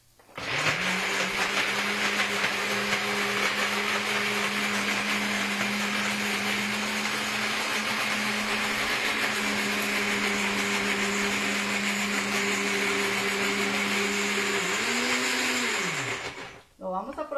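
A food processor whirs steadily for about fifteen seconds, blending tacos al pastor marinade ingredients with salt, a loud constant motor drone that dips in pitch and winds down at the end.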